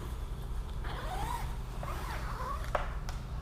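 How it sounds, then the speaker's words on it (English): A zipper on a smart suit leg is drawn down to the foot in two quick rasping pulls, close but soft, against a steady low background rumble. "unzip all the way down to the foot"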